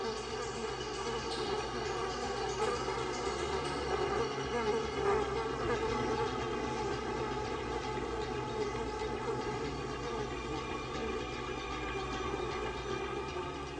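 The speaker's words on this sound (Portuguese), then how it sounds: "Uma vez bem longe da velha colmeia, o enxame pousa para se reagrupar e determinar o resto do plano." Honeybee swarm settling after leaving the old hive, a dense, continuous buzzing drone of many bees with no breaks, steady and full throughout.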